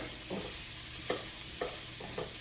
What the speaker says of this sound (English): we're just going to kind of let this sausage brown a little bit and squash just finish the last of its cooking.